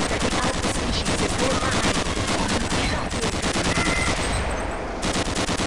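Continuous rapid gunfire in the sci-fi shooter Gunman Chronicles, loud and close, an unbroken automatic rattle lasting throughout with no pauses.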